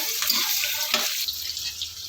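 Dry onions crackle in hot oil as a tempering in a home kitchen, a steady close sizzle with a brief stirring scrape near the middle, no talking.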